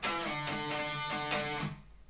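Guitar notes slide from E down to D, then ring on D with a few picked strums before fading into quiet.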